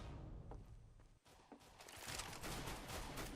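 Rapid automatic gunfire sprays in Counter-Strike: Global Offensive, a dense rattling burst that swells louder toward the end, heard fairly quietly with no voices over it.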